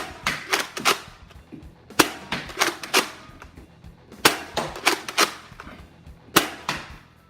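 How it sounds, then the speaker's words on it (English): Nerf blaster firing foam balls fed from a Lightake magazine, heard as a series of sharp close pops in quick bursts of two or three, separated by short pauses. "let's just make sure the balls work well in a Nerf blaster. And as you see, they fire nice."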